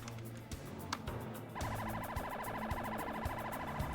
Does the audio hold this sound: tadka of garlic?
no